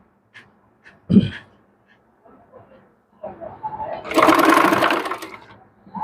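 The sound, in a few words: sewing machine stitching piping onto a dress neckline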